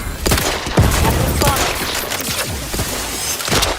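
Rapid gunfire rattles through a video game, with dense bursts of shots and sharp cracks packed close together, loud and continuous for a few seconds.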